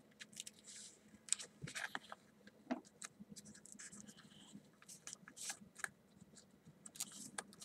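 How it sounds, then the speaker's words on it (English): Paper being cut into parts for a folded paper F-18 jet model, a quiet run of small crisp scissor snips and rustles with short irregular bursts, close and faint, no voices. "You're going to cut this part."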